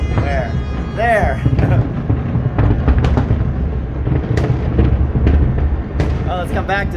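New Year 2023 fireworks over Dubai pop and crackle in a rapid, overlapping string of bursts, heard amid steady crowd murmur and people talking close by.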